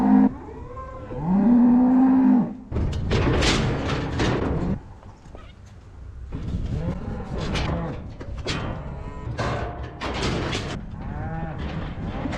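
A cow lows loudly and alone for a couple of seconds, with rustling and thumping from livestock and people moving around nearby; the cow has a lame back left foot.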